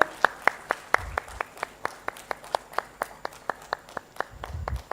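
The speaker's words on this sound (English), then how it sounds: "A big round of applause, ladies and gentlemen." Clapping at a live stage event at the Odisha textile expo comes as evenly spaced, crisp claps in a steady rhythm, moderately close and fairly faint against a low background murmur.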